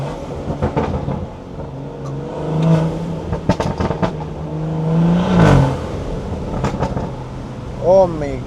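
A BMW B58 engine revs up and settles back, deep and rumbling from inside the vehicle, with people talking over it.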